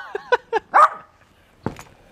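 A small pet dog lets out a quick string of sharp, close yaps, then one louder bark, with a final yelp after a brief pause.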